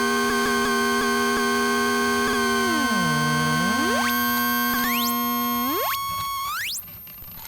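Steady synthesizer tones with LFO modulation hold, dip low, then sweep upward into piercing high pitches several times before cutting off.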